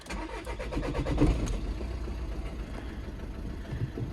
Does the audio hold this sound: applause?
no